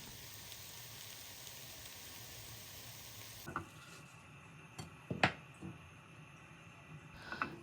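Crepe batter made with soured milk and eggs fries in a hot 22 cm pan. A steady soft sizzle gives way to quieter crackling, with a few light clinks of a utensil against the pan. There is no talking.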